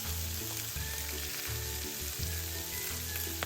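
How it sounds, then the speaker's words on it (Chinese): Cabbage stir-fries in a hot pan as filling for Hakka chai kueh dumplings: a loud, steady, close sizzle with faint stirring over a low background hum, no voices. "炒至這狀態後，就可以將包菜加入了"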